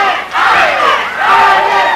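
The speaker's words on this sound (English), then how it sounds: "The crowd starting to chant." A wrestling arena crowd begins to chant, two loud swelling rhythmic shouts from many voices in quick succession, close and dense.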